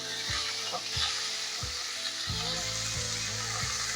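Chicken cutlets fry in oil over high heat with a steady, loud sizzle, broken by several rhythmic thumps and scrapes from a spatula or pan; no one speaks.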